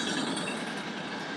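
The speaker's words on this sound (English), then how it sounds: "sorry, the train's going by here" Train heading to northern Italy passing nearby, a steady broadband rumble and rail hiss holding evenly through a short stretch, no talk.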